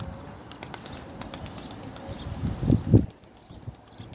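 A pigeon's wings flap in a quick flurry of beats in flight, loudest near the end, over faint outdoor background noise.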